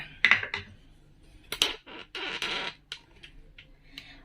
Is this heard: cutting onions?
yes